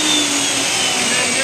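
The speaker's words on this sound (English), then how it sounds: "So when I turn on the table saw, that turns on the vacuum." A shop vacuum linked to a table saw's switch roars loud and steady at close range, a continuous whooshing drone filling the whole moment.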